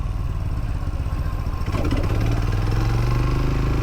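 A Tycorun Scrambler motorcycle engine runs close by with a steady low throb, then rises into a louder, higher revving pull through second gear.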